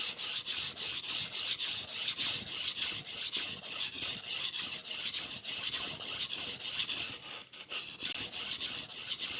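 Steady, loud rasping of a blade being quickly reprofiled on a sharpening stone, the rapid back-and-forth grinding strokes running continuously and close without any talk.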